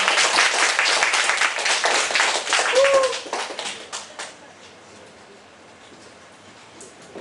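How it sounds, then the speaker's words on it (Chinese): An audience at a high school library reading club claps warmly to welcome a teacher, with dense applause for about four seconds that then fades out. "我们用热烈的掌声欢迎陈老师"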